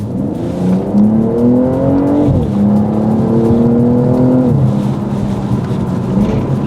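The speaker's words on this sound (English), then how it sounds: "how it's changing gears, you can literally hear it. It almost does like a DSG fart" A 2022 BMW M240i (G42) accelerates hard, its engine note climbing steadily through two upshifts with a brief burbling drop at each gear change, loud and close with no talking.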